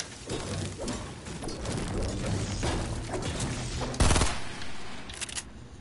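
Dual pistols firing in a video game, with rapid bursts of shots and clattering impacts throughout, a louder blast near the end, and some game noise in the background.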